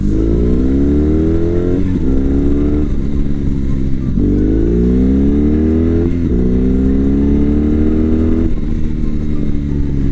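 A BMW R 18 B motorcycle accelerates hard through several gears, its loud, deep engine note climbing in pitch, then dropping at each shift, three or four times in a row, all recorded up close.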